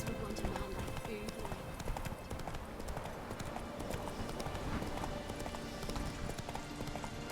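Horse hooves clip-clop steadily in The Witcher 3 video game, a quiet continuous trotting rhythm under a voice talking.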